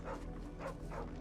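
A brown-and-white dog in Final Fantasy XVI gives three quick, close barks in an even rhythm, with quiet game ambience behind them.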